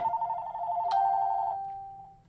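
A telephone rings indoors with a single electronic tone that sustains and then fades, fairly close and alone without talk.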